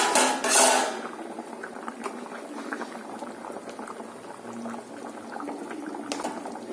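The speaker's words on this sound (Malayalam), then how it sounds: "ഇപ്പോൾ നമ്മുടെ കറി ഇവിടെ തിളച്ചിട്ടുണ്ട്" Curry bubbles and simmers in a pot, a continuous soft burbling with small pops, opening with a brief louder splash or clatter.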